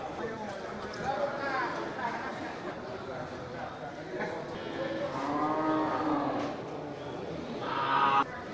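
Simmental cattle lowing at a local cattle exhibition, with a few deep drawn-out moos rising over a steady crowd murmur and people talking nearby, plus some faint scuffing throughout.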